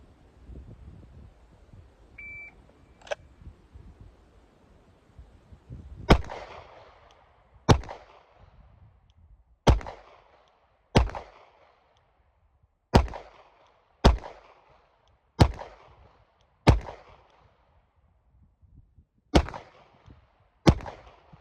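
Pistol shots ring out during a timed ten-round drill from the 25-yard line, starting after a short beep from a shot timer; about eleven sharp, loud cracks follow at uneven intervals of roughly one to two seconds.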